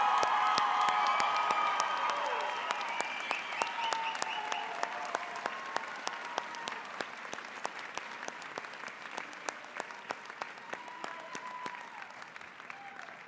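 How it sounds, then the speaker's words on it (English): Sustained applause for the class of 2021 graduates at an evening commencement ceremony, dense clapping with some cheering that starts loud and slowly thins and fades over the span. "How about another big round of applause for all of our graduates?"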